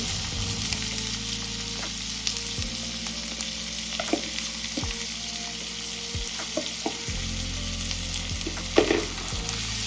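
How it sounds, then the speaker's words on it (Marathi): Prawns frying in a pan for dry zinga masala, a steady bright sizzle with intermittent clinks and scrapes of a spatula, close by, under a low background hum, with no speech. "आता आपण हे झिंगे छान फ्राय करून घेऊया"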